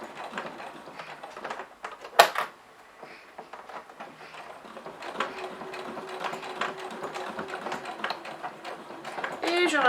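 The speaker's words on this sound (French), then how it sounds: "Et je couds ici au plus près du bord du tissu." A sewing machine stitches along a fabric edge while making a small purse, with a rapid mechanical whirr in short bursts and a steadier run later, close and moderately quiet, with someone speaking over it.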